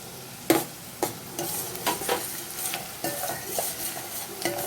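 Onion and crushed garlic fry in a pan with a continuous sizzle, broken by repeated stirring scrapes about every half second, close and alone without speech.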